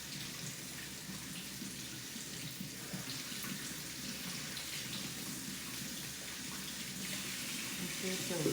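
Tap water runs in a steady, even gush into a plant watering bulb indoors, a continuous close splashing stream that holds at constant loudness throughout.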